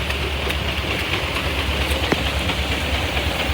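Steady rain falls at an outdoor steam and gas show with steam tractors and Case equipment, a constant broadband hiss that holds evenly throughout, with a faint low rumble beneath it and one brief sharp tick partway through.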